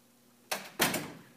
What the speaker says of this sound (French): Si je ferme ma porte,